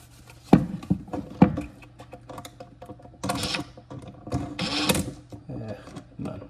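A screwdriver drives screws flat into wood in a kitchen, giving a few sharp close clicks followed by short bursts of grinding, ratcheting turns, separated by brief pauses.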